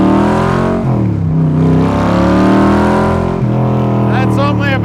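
A 1965 Shelby Backdraft Cobra engine revs through its side pipes at about half throttle, a loud, close, deep rumbling roar that rises and falls in pitch over several seconds before settling.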